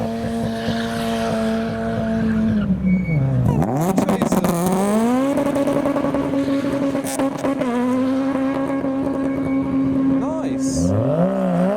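Modified cars, a Civic Type R and a Horn supercharged Mini among them, pull away from a car show, engines revving up and down loudly and close by, with brief crowd voices in the background.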